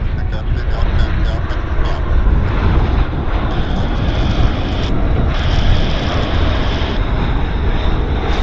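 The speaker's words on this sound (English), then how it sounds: "he landed a few hundred meters longer than most of the aircraft of his size" A plane lands at Vancouver airport with a steady, loud engine roar mixed with heavy wind buffeting on the microphone. People talk over the roar.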